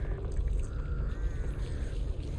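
Crows caw in a video game zombie-shooter setting, a few rough calls heard close over a steady low background rumble, with no talk.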